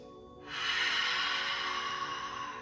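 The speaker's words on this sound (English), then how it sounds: "Use the heart healing sound, the ha breath on your exhale." A long, breathy 'ha' exhale of the yoga heart healing sound, a soft airy hiss rising quickly and held steadily for about two seconds, close and alone.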